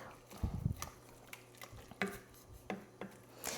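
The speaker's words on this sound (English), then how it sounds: "So we put all the coconut and all the thing here. So I'm gonna give it a mix." Coconut and other ingredients being mixed in a bowl, a few soft scraping and knocking strokes spaced irregularly, close and fairly quiet.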